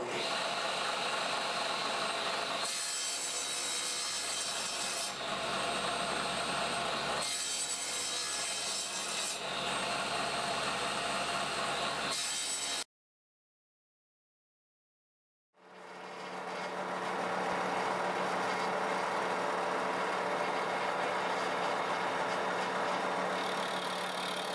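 A saw cuts maple pieces for a segmented dovetail bowl, giving loud continuous rasping cuts in repeated passes. A silent gap breaks the cutting before a long steady cut resumes.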